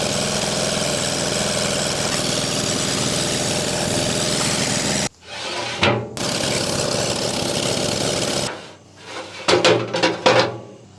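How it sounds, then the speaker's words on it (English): A power washer runs loud and steady, blasting gunk off the outside of a backyard offset smoker, then cuts out and restarts in a few uneven bursts. "we're gonna power wash the whole outside just to get rid of any gunk and debris that's on there"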